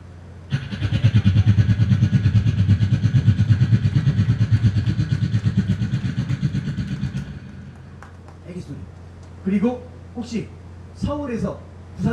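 At a night festival performance in Gunsan, a voice imitates a helicopter with a low, rhythmic chopping drone that pulses steadily for several seconds, then gives way to Korean speech.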